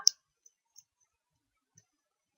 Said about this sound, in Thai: โดยการดับเบิลคลิกนะคะ